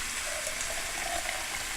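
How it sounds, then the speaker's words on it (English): Water runs from a kitchen faucet as a steady, close hiss of spray that holds even from start to finish, with no talk. "we're going to go to the faucet"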